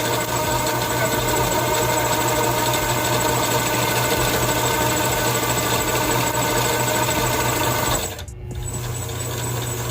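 Steady, loud mechanical whir of a line-spooling machine winding 100 lb solid braid fishing line onto a reel, running continuously before a brief dropout and resumption near the end.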